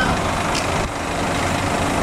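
A large diesel engine of a Makmur Royal Classic 22 intercity bus idles steadily and loudly close by at a terminal, a continuous low rumble with a brief hiss partway through.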